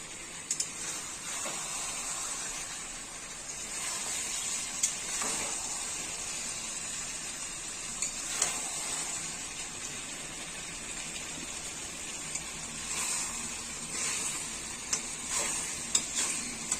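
Village-style mutton sizzles as it is stir-fried in its released oil, a soft even hiss broken by scattered light ticks and scrapes of stirring.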